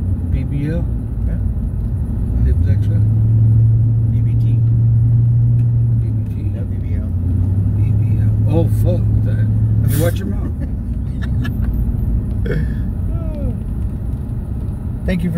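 A big black truck driving on a city street, its engine a steady low rumble with a sustained drone in the middle, heard from inside the cab under ongoing conversation.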